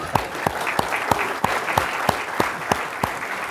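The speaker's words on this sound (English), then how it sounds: "So I say, give yourself a nice round of applause." A conference audience gives a round of applause, heard as a steady wash of clapping with distinct sharp claps popping out at a regular beat over the crowd noise.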